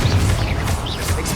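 A Confringo blasting spell strikes in Hogwarts Legacy, giving a dense, rumbling explosive impact with crackling debris that fills the short moment, loud and close, with no talking.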